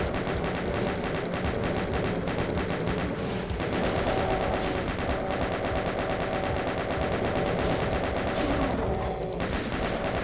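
A chaingun fires in a rapid, steady stream of loud close shots in the Doom episode Sigil 2, its rattle running nearly nonstop for about ten seconds with brief pauses and no speech.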